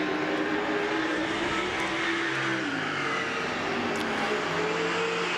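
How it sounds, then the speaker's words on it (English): Saloon race cars circle Baypark Speedway, their engines roaring loudly and steadily, with rising and falling pitch as several cars pass at close to middle distance. "So the 12-lap Saloon car race, the first of the night."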